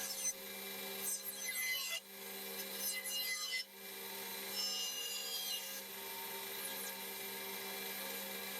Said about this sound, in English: when they were dry, I could trim off most of the excess over at the bandsaw